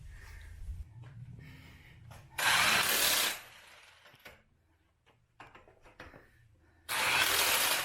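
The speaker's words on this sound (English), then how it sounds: "We'll tighten them, we'll torque them down by hand." Power ratchet and hand tools tightening and torquing wheel lug nuts on a 1993 Pontiac Firebird during a wheel and tire swap: two loud, close bursts of rattling impact-style whirring, separated by quieter clicks, clanks and handling noises.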